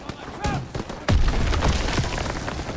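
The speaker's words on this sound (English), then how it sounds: "Gunfire! We must be near our guys." Gunfire in a Call of Duty: WWII battle, a burst of sharp cracks and booms with a louder blast partway through, mixed with shouting voices and noisy battlefield clatter.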